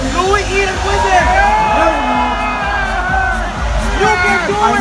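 A crowd at a wrestler's fan meet in Manila cheers and whoops with a continuous roar, while an amplified voice talks over the noise throughout.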